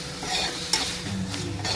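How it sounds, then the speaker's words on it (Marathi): Tomatoes sauté in a hot pan to a constant sizzle, with a spatula stirring and scraping close by and one sharp knock partway through. "अजून 1-5 मिनिटं थोडंसं परतून घेऊया"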